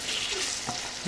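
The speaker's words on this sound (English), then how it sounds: "you mix that up" Tomato paste is stirred in a cooking pot, a short burst of soft sizzling with a scrape of the spoon near the end, close and fairly quiet.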